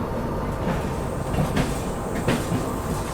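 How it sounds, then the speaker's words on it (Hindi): The New Delhi Banaras Superfast train rumbles past close by, a loud steady roar of wheels on rails with faint rhythmic clacks, heard from another moving train. "तो भाई ये है अपनी नई दिल्ली बनारस सुपरफास्ट।"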